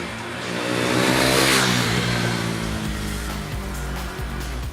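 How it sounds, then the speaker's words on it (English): A KTM Duke 390 single-cylinder motorcycle exhaust, loud and close, rising as the engine revs and then holding a steady drone. "The Duke 390's exhaust note is constant throughout,"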